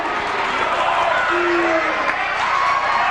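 A crowd at a Gate City versus Lee High high school basketball game grows louder with steady cheering and murmur, heard under a commentator's voice throughout.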